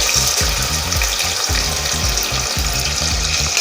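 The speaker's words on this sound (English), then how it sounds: "Let these onions become a bit translucent. Keep frying till it becomes a little translucent." Close, steady sizzling of finely chopped onions frying in butter and oil with cloves and cinnamon for prawn biryani, with rhythmic scraping of a utensil stirring the pan, no voices.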